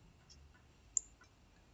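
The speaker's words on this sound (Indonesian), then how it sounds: "setelah itu saya klik di sini ya" A computer mouse gives a single faint, crisp click in a quiet room while a Google Form is being set up.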